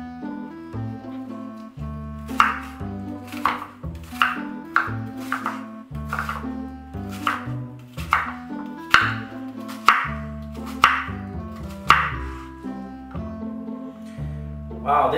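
A Swiss Royalty Line knife chops on a board in about a dozen sharp, evenly spaced strikes over steady background music, each cut a crisp tap.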